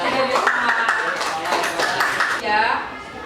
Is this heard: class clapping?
yes